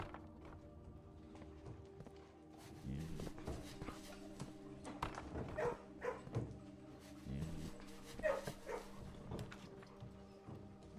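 Dogs in a kennel room of the Blue Prince video game: scattered barks and light padding steps rise over a quiet tonal game backdrop, with no speech.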